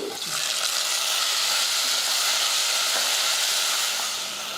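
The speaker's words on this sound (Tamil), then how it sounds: "கொஞ்சமாக சின்ன வெங்காயம் போட்டு நல்லா வதக்கிக்கலாம் வெங்காயம் நல்லா வதங்கினதுக்கப்புறமா மூணு தக்காளி" Shallots, dried chillies and tomatoes sautéing in a pan give off a loud, steady, hissing sizzle that runs unbroken and close up for several seconds, with no voices over it.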